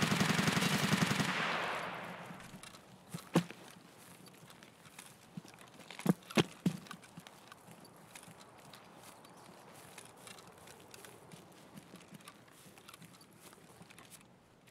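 Distant gunfire from players fighting in Escape from Tarkov, scattered single shots and a short cluster of sharp cracks over low ambient noise, with a brief rush of sound at the start.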